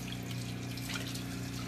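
Tap water runs steadily into a sink or tub while raw pork ribs are rinsed and soaked in cold water, a constant low, faint rushing with a faint hum beneath it.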